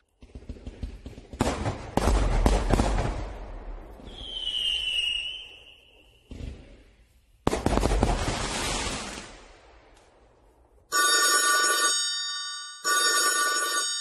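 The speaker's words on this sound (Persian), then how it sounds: "صبح روز بعد صدای زنگ تلفن پوارو بلند شد" In a Persian-language audiobook dramatization of an Agatha Christie mystery, a telephone bell rings loudly twice in clear repeated bursts, following earlier sharp bangs, a whistling tone and other sound effects.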